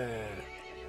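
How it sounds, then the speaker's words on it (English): A short whinny from a horse in a horror video game, a loud wavering neigh that dies away within a second. "The horse grew angry and summoned the other monsters."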